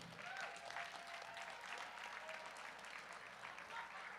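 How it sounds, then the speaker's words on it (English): Faint, steady clapping from an audience at a college nationals competition session, many hands at a distance with a murmur of voices underneath. "Give them one more round of applause."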